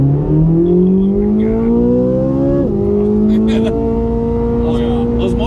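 A Corvette C8 Z06 with the Z07 carbon fiber package accelerates hard, its loud engine climbing steadily in pitch through one gear, dropping sharply at a shift, then pulling again, heard from inside the car.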